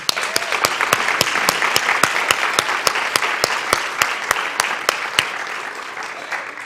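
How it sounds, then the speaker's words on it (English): A church congregation applauding during a Sunday morning service, sustained clapping with sharp, evenly spaced claps standing out in a steady rhythm, close and continuous for several seconds. "So let's applaud my auntie."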